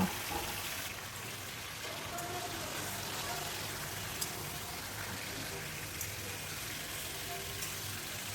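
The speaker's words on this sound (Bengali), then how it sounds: "এবার চিকেনটাকে হাই ফ্লেমে পাঁচ থেকে ছ মিনিট আমি ভেজে নেব" Marinated chicken pieces frying over a high flame in a Bengali gondhoraj chicken dish, giving a steady, even sizzle and crackle throughout, close by, with no speech.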